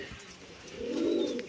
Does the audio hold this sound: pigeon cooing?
yes